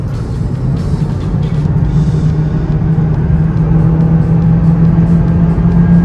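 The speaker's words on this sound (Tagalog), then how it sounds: "So, downshift ulit tayo." A 2015 Mazdaspeed 3 (third generation) engine drones loudly and steadily from inside the cabin, with a low engine tone that holds and rises slightly while the car is driven hard through a downshift.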